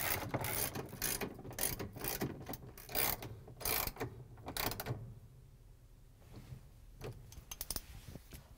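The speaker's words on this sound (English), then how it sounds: "grab the 3 8 inch socket with the ratchet and the extension again, put in the bolts." A 3/8 inch socket ratchet with extension tightens bolts on a GE washing machine transmission assembly, giving rapid, close clicking bursts in several runs, then a pause and a few sparse clicks at the end.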